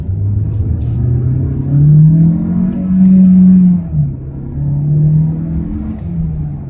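A Volkswagen Tiguan 1.5 TSI R-Line accelerating hard in Sport mode on a straight road near Bilbao, heard from inside as a loud engine drone that rises through the gears with brief dips at each shift.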